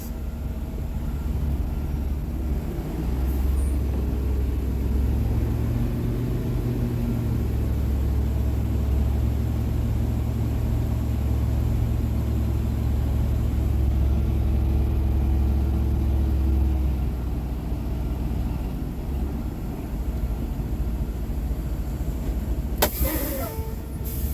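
A car reversing straight back into a parking box during an offset backing maneuver, a steady low engine hum that holds evenly, then eases, with a short click near the end.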